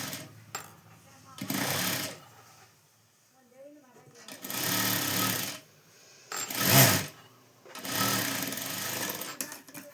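Domestic sewing machine stitching the neckline of a square-neck blouse, running in three or four loud bursts of a few seconds each, separated by pauses where someone speaks quietly.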